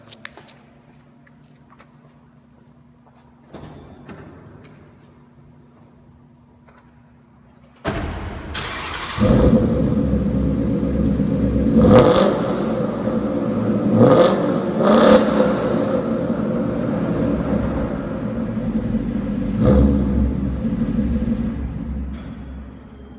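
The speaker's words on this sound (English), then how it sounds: "I'm going to fire it up and give it some revs" A 2016 Mustang GT with a Borla S-Type cat-back exhaust starts with a sharp catch in a garage, then settles into a loud, echoing idle punctuated by three or four quick revs that rise and fall.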